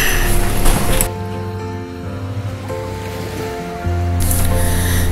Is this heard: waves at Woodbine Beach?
yes